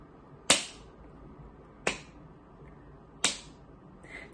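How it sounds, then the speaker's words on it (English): Three single, sharp hand claps spaced about a second and a half apart, close and clear in a quiet room, for a nursery counting exercise. "I did 3 claps."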